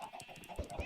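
Blocky Minecraft chickens give short, quiet clucks in a rapid string, a few small thuds slipping in near the end, all fairly faint and unaccompanied by talk.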